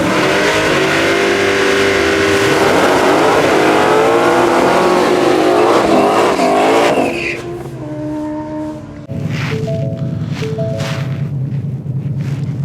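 A 2021 Ford Mustang GT500 engine revs loudly and steadily at a drag race, with rising and falling tones, then settles to a lower, rougher idle with brief blips of throttle.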